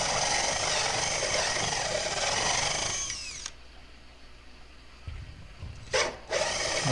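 Power saw cutting a hole for a plumbing vent pipe through a metal roof, a loud harsh whine for about three seconds that winds down and stops, then a brief burst starts again near the end.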